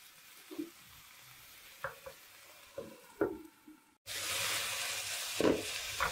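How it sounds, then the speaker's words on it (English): Kale stir-fried with garlic in a hot pan, stirred in a few separate scrapes over a low sizzle that jumps to a loud, steady frying hiss when the lid comes off partway through. "We'll give it one more stir here"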